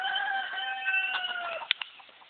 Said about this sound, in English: Look at all these cocks. There's a lot of cocks.